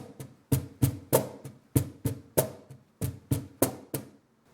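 A cajon beats out a rock pattern, two deep bass strokes then a sharp slap repeated in steady time, close and fairly quiet with no voices.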